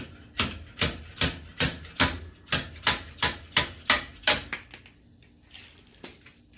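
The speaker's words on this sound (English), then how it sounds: "I'm going to slide hammer into the seal" A slide hammer pulls a rear axle seal on a 1968 Mustang, striking about a dozen times in a steady rhythm, each sharp metallic clack close and loud, then a couple of final knocks after a pause.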